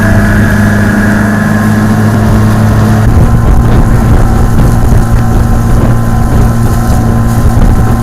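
A loud, steady motor drones throughout from a motorized ferry boat running on the water among makeshift pirogues, with wind buffeting the microphone and the engine tone roughening partway through.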